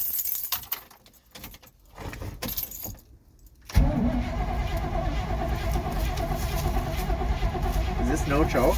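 1971 Chevy C10 pickup truck, cold start before winter storage: quiet handling noises and rustling, then the engine fires abruptly and settles into a loud, steady idle that runs continuously to the end.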